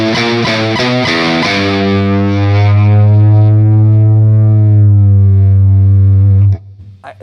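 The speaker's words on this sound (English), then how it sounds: "see if this nasty guitar will sound just as big through this as it did with the small amps" A loud, heavily distorted electric guitar played through amps plays a few choppy chords, then holds one big sustained chord that rings out before cutting off abruptly.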